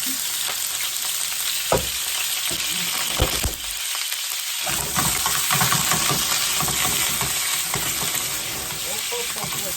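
Chicken pieces frying in hot oil for a chicken pilaf, a loud continuous sizzle with crackling pops and stirring scrapes, briefly dipping in the middle before resuming strongly.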